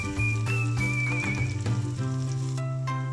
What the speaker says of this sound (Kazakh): Жуамызды салып, сарғайғанша қуырамыз.